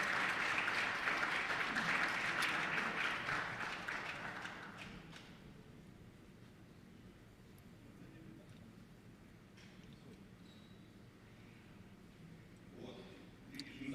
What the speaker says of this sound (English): Let's give a round of applause to him